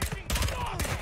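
Gunfire in the shooter game Modern Warfare II, a short loud burst of broadband cracks in two clusters, mixed with low rumble and voices talking over it.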